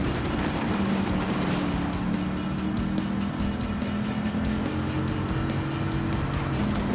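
A Dodge Viper in Gran Turismo 7 held at full throttle, its engine droning loud and steady throughout with a constant high-revving whine and no letup.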